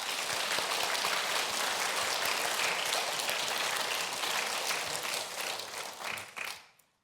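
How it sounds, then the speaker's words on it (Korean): Church congregation applauding together, a dense, steady wash of clapping that keeps up for several seconds and then fades out near the end, with no voices over it. "이 시간 우리 한번 박수 쳐드렸으면 좋겠습니다"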